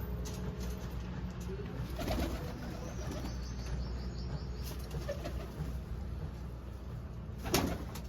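Pigeons coo steadily amid a constant outdoor hum, with a brief flutter of wings partway through.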